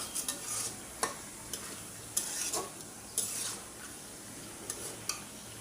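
Aloo dum potato curry masala sautés in a pan, a low continuous sizzle broken by sharp scraping and tapping of the stirring utensil every second or so, fairly quiet and close without speech.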